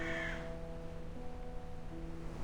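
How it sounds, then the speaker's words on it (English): A distant bird cry from the video game Reverse: 1999, a short high call at the very start over a steady tonal hum and soft ambient bed. "A breeze lifts, a bird's cry drifts in from afar."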